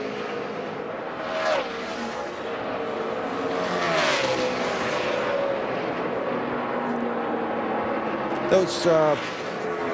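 NASCAR Sprint Cup race cars practicing at Phoenix produce roaring engine sweeps as cars pass, with a couple of louder passes standing out, under continuous commentary.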